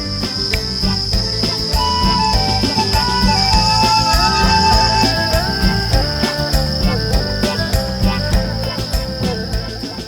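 Crickets chirp steadily on a cricket farm, a dense, continuous high trill with layered insect calls and no talk, loud and close throughout.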